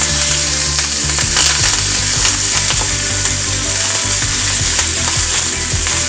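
Garlic and curry leaves sizzle loudly in hot oil in a pan, with close, frequent scraping and clinking of a stirring spoon against the metal throughout.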